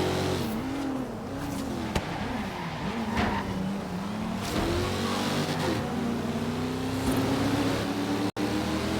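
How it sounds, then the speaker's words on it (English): A truck's engine revs and accelerates in Forza Horizon, loud and close, its pitch rising and falling as it shifts through gears, with brief tire squeal and a sharp click near the end. "This truck isn't very fast."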